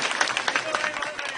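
Audience applause at a political rally, a brief steady burst of many hands clapping in a crowd.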